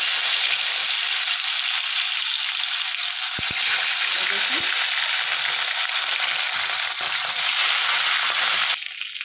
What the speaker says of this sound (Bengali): আমি এবারে মাছগুলো ভেজে নেব।